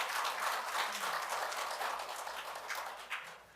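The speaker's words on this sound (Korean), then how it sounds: "힘찬 박수로 시작을 하겠습니다" An audience at a forum on North Korea's nuclear threat breaks into hearty applause, a thick continuous clatter of many hands that stays strong and gradually eases toward the end.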